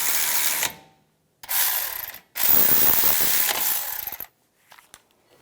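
Ratchet tightening brake caliper bolts on a 2007-2014 Cadillac Escalade, three close bursts of rapid clicking separated by short pauses, followed by faint taps.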